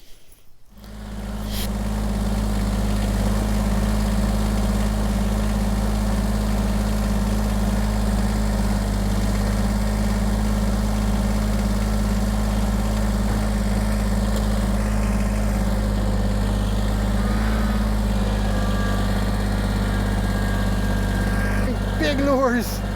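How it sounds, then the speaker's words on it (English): A tractor engine idles steadily while warming up, a loud low rumble with a constant harmonic drone running unbroken throughout, no talking over it. "No point just recording dead air of the tractor warming up"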